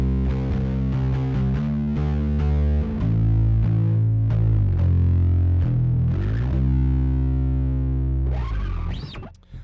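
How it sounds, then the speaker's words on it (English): Bass guitar through a distortion pedal with the octave generator switched off, gritty fat notes down to the low E, sustained and ringing loudly before fading at the end. "lately I've been enjoying playing this pedal without the octave generator on"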